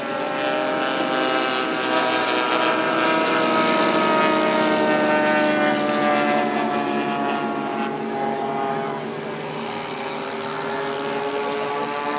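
Engine drone from a model aircraft, a jet or warbird at a Freestate Aeromodelers fly-in, passing overhead with a sustained whining tone that shifts in pitch, swelling and then fading slightly as it moves away.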